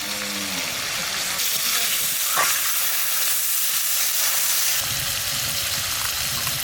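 A steady, loud sizzle of spices frying in a pan with green chilies, dried chili paste, salt and turmeric, with scraping as they are stirred, and a voice speaking briefly at the start and end.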